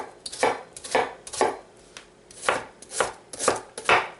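A Winco Acero 8-inch hollow-ground chef knife chops onions on a cutting board, about eight crisp close knocks in a loose steady rhythm, each with a short sharp bite.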